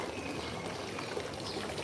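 Running water from the Alps, a soft continuous pouring and trickling stream, faint and steady, with no talk.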